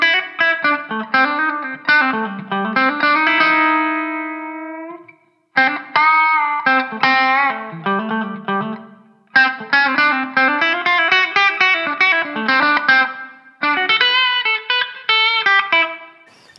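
An electric guitar plays a distorted, effects-laden pentatonic rock solo with fusion touches, phrased in bursts of bent and sustained notes separated by short pauses, loud and close with no talking.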